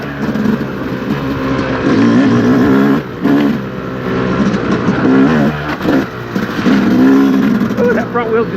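A 2025 Yamaha YZ250X two-stroke dirt bike engine revs hard and continuously at an OHV trail riding area, loud and close with rising and falling throttle surges and brief dips between bursts.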